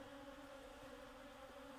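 A bee buzzes in a steady, even drone that stays at a constant distance, faint and alone, without any voices.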